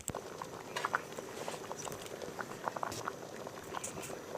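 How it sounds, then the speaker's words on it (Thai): Water boils hard in a pot with sticky rice for a longan dessert, a dense bubbling and popping patter that sounds faint and continuous, with no voices. "ตอนนี้น้ำก็เดือดจัดแบบนี้แล้วนะคะ"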